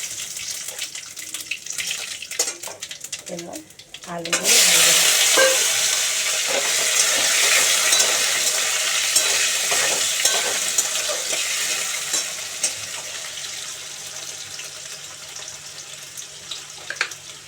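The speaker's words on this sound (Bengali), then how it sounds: "তেলটা গরম হলে জিরা তেজপাতা ফোড়ন দিলাম" Cumin seeds and bay leaf drop into hot oil with a sudden loud burst of sizzling that follows a few clinks, then a continuous crackling hiss slowly settling over several seconds, close by and without voices.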